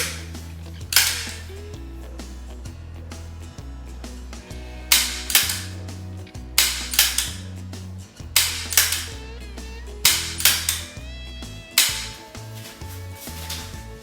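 Pistol shots ring out one after another, sharp cracks spaced a second or so apart, loud and close, each followed by a short echo.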